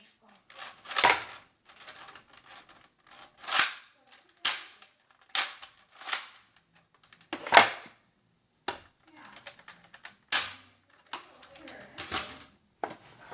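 A Nerf toy sniper rifle fires repeatedly, a series of sharp, snappy clicks and pops spaced irregularly apart, fairly close and moderately loud, with brief mechanical rattles between shots.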